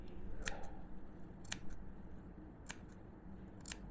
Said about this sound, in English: I'm gonna go ahead to cut notches